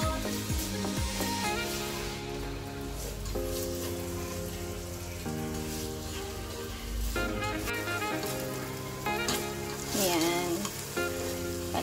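Pork and chicken liver frying in a pan for pork menudo: a steady, close sizzle with occasional stirring, running under background music with no speech.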